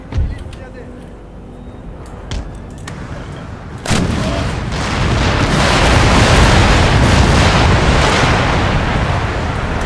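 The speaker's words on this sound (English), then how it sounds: "Get everyone firing at will straight away." Cannon and musket volleys in an Empire: Total War battle (Darthmod), fighting as the Ottoman Empire: scattered booms at first, then from about four seconds a loud, continuous roar of massed gunfire, with a voice talking over it.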